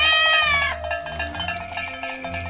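An electronic toy plays a warbling meow-like tone followed by chirpy electronic chiming, loud and close.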